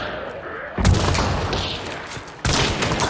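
Gunshots in the video game Hunt ring out from a courtyard between buildings: two heavy booming shots with long reverberant tails amid ongoing game noise.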